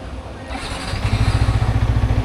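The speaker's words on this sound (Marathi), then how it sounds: "बाईक जरा परत स्टार्ट होते काय बघूया एकदा" A Yamaha MT-15 motorcycle engine turns over and settles into a steady, throbbing idle, close and fairly loud, with faint background noise.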